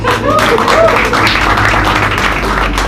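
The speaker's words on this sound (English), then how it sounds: "Round of applause." Audience at a comedy roast show clapping in a short, loud, dense burst, with crowd noise and voices mixed in throughout.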